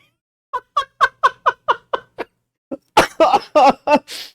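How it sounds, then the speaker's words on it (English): A quick run of about eight short coughs or laugh bursts in steady rhythm, then a pause and a louder, breathy cluster of harsher coughing bursts, close by. "I always laugh too hard, I start to cough."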